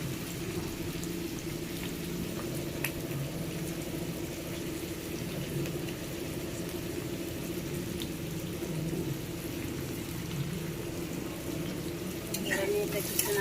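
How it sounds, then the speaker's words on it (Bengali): Onion and green chili frying in hot oil in a home kitchen, a steady low sizzle that runs the whole time with a few brief clinks of stirring, and some louder clatter near the end. "পেঁয়াজটা একটু ব্রাউন করে ভেজে নেব"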